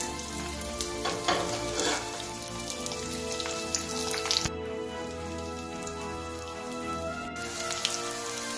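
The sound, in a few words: rice cutlets shallow frying in oil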